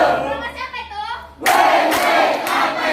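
An office audience cheers and applauds a new marketing manager's promotion, a dense burst of clapping and shouting that starts suddenly after a brief voice and stays loud.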